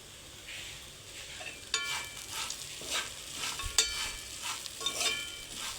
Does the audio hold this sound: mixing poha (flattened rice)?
yes